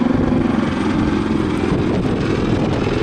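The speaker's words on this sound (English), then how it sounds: "he dives the helicopter down towards, with a cockpit full of sea below him" A Royal Navy Wildcat helicopter dives toward the sea during a solo display at Southport Airshow 2022, giving a loud, continuous rotor and engine roar that stays steady and close.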